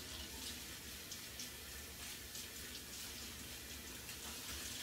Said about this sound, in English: So I'll show you how well it rinses out.